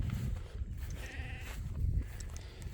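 Sheep bleat in a grassy pasture with thick forage, a single drawn-out bleat rising over steady low rumble and wind noise outdoors.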